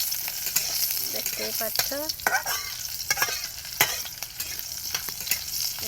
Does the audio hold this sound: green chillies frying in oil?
yes